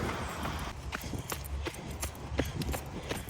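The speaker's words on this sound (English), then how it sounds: "Like running through here and just hearing your footsteps on the ground" Running footsteps thud steadily on the ground outside during a half-Ironman training run, a regular rhythm of soft, close impacts over heavy breath and low rumble, with no talk.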